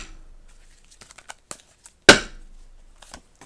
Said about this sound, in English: if I'm led to pull 3 more, I will shuffle again and pull 3 more